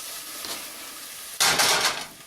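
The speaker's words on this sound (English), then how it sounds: "We'll let some of the fats from that, because it's pork, render into those onions as well." Onions and pork frying in a pan with paprika, a soft sizzle that jumps to a loud, bright hiss about halfway through, with faint stirring scrapes, no voices.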